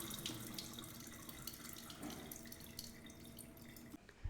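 Water from a brined chicken pours off in a steady splashing stream into a sink, fairly close, trickling on for a few seconds before tapering and dripping at the end.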